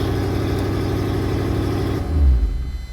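The V8 of a 1981 Porsche 928 that runs rough idles with a low, uneven rumble, then swells briefly in a short rev before dropping away; no talking.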